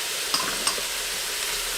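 Onions and garlic dropped into a hot stainless steel Instant Pot liner, giving a steady soft sizzle with two brief ticks as pieces land, close and alone with no talk.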